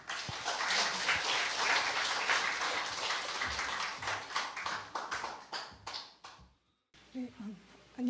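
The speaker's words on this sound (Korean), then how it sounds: "큰 환영의 박수 부탁드립니다." Audience applause at a Thursday philosophy humanities forum lecture in Korea, welcoming the professor to the podium: dense clapping that fades out near the end, after which the speaker begins talking.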